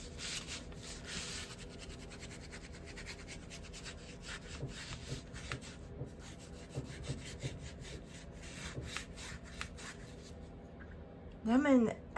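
Paintbrush scrubbed hard onto canvas while dry brushing a picnic watermelon, giving a soft, rapid bristly rubbing texture, with a person talking over it.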